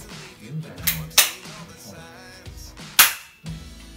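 Academy Colt 25 airsoft BB pistol firing indoors: a few sharp, close snaps spaced over several seconds, two of them loudest, with faint handling noise in between.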